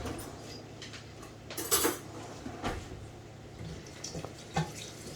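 A metal fork clinks against dishes in a kitchen sink and gets a quick rinse under the tap while empanadas are being made, with a couple of sharp utensil clatters over a soft running-water wash.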